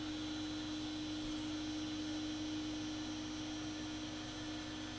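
A ROBO 3D R1+ 3D printer runs a print, giving off a faint, steady mechanical hum and fan-like whir without pauses or voices.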